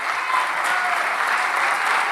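A concert audience gives the Orquesta Filarmónica del Litoral a loud, dense wash of applause, steady and even throughout the short stretch.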